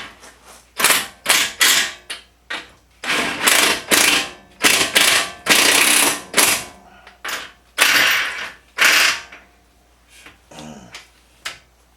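A ratchet wrench clicks in rapid, repeated bursts while bolts are tightened on the lower control arm of a 2005 Volvo XC90, loud and close, with brief pauses between the runs of cranking.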